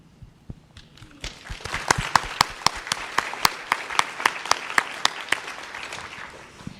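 Claps from an audience at a keynote talk start sparse and settle into a steady, evenly spaced run of sharp, distinct hand claps, moderately close, over a quiet background.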